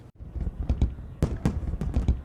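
Fireworks bursting over the San Diego bayfront on the 4th of July, a series of booming pops and crackles at an irregular pace, moderately loud and somewhat distant, with no talking.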